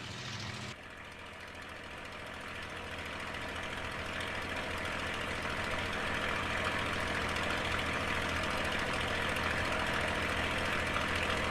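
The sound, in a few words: TF-51 Mustang aircraft engine idling before run-up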